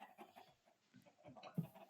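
Faint video game chicken clucks come in short, scattered bursts, one sharper cluck near the end.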